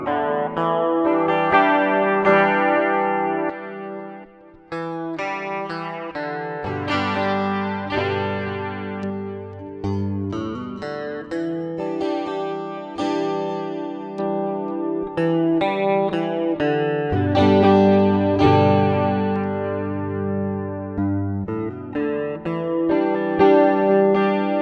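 A Hils HN3 Gen 3 budget headless electric guitar rings out through a clean rig, strummed chords and picked notes sustaining with a chorus-like shimmer, steady and fairly loud for about twenty-five seconds with no talking.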